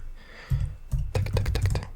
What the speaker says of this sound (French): la première vidéo sur cette chaîne avec un clavier